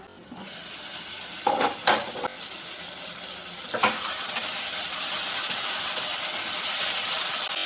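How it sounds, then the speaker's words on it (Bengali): Spice paste is stir-fried with tomatoes in a pan for a paneer dish: a few close scrapes and clinks early on give way to a loud, steady hissing sizzle that swells and carries on. "ভালো করে ভালো টমেটোর সাথে মশলাটা কষে নেব"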